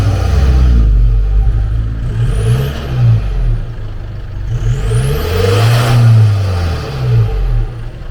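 A 2019 Isuzu MU-X diesel engine revving, rising and falling in several swells of rumbling engine tone, loud and close throughout.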